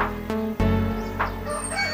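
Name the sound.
rooster crowing in breeder pens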